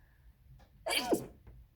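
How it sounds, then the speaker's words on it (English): A single sharp sneeze bursts out close by, preceded and followed by faint breathy sounds in a quiet room. "Bloody sneeze."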